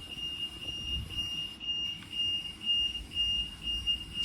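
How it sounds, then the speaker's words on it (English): An alarm sounds in a pottery studio, a thin high-pitched beeping repeating in quick regular pulses, faint and steady over a low rumbling background. "Sorry, an alarm has gone off."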